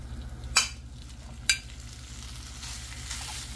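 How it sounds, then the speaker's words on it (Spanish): Bacon frying in a pan gives a constant hiss and crackle, with two sharp clanks of a utensil against the pan. "Vamos a llevarle el bacon al sartén"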